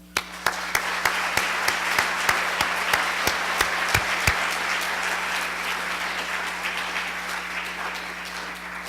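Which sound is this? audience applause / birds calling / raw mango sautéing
audience applause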